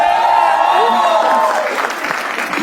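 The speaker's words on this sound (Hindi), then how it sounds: "तो शुरू करते हैं तालियों के साथ." Audience applause at a stand-up comedy show rises as a steady tone fades, becoming a dense, sustained wash of clapping from a large crowd that fills the last half of the clip.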